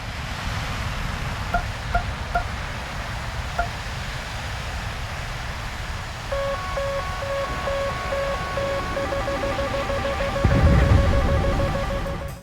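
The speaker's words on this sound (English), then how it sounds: "We got new sounds for search radar as well as new launch tone for CW missile launch." CW missile launch warning tone from a combat flight game's dev server: a few isolated blips, then repeated beeps that quicken into rapid pulsing over a steady wind-like rush.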